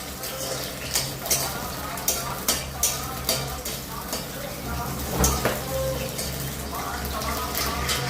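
Green chillies fry in a pan with a moderate sizzle under repeated stirring and scraping, sharp utensil knocks at a fairly regular pace, heard up close with no speech.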